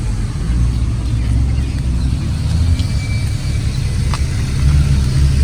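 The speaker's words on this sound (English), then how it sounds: "This is idle." Close to the tailpipe of a 2012 Chevrolet Utility 1.4 on its stock exhaust, a steady low idle rumble holds evenly for several seconds with no revving or talk.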